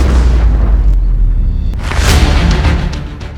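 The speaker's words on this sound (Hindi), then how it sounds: "एक महिला अपने अपार्टमेंट के कमरे में बैठी किताब पढ़ रही थी, तभी वहां एक जोरदार धमाका हुआ।" A powerful blast from an Iranian strike hitting an apartment building, a loud booming burst with dense rumbling debris and rattling that swells midway and fades, with no voices.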